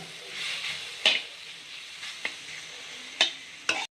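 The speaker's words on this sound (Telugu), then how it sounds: "గోంగూర మొత్తం మనకి ఇలా ఫ్రై అయిపోయింది" Gongura (sorrel) leaves stir-frying in a pan, a steady close sizzle with a few sharp scraping clicks of the spatula against the pan spaced through the clip.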